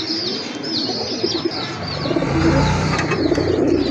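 Several pigeons at a pigeon seller's spot in Dhaka coo repeatedly, their soft throaty calls mixed with chirps and a faint flutter, close and loud over a busy low background.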